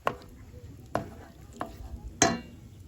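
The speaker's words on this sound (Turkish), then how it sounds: "Ben de biberlerini doğrayayım." Four sharp knife strikes chopping peppers on a cutting board, spaced unevenly and fairly quiet, with a soft sizzle in the background.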